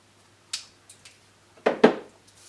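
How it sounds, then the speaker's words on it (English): Secateurs snip through material for a robotic arm base, giving a few sharp, close cutting clicks, with a double snap near the end and quiet gaps between. "just trim that using the secateurs"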